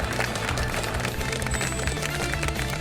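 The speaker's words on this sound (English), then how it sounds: "Give them a big round of applause" An audience at the Mahindra AQ Season 8 quiz grand finale gives a round of applause, a dense, continuous wash of clapping that fills the short moment without letup.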